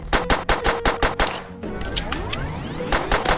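Rapid automatic gunfire from a weapon in the Roblox game War Age Tycoon: a quick, evenly spaced string of sharp shots up front, then a sweeping beam-like whir with scattered impacts, loud and close.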